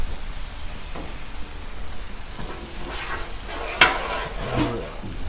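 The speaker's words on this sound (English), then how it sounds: "Let's throw these veggies on." Vegetables sizzle in oil on a Blackstone flat-top griddle, a steady broad hiss with scraping and stirring that builds and sharpens toward the end, including one brief clack, and no talking.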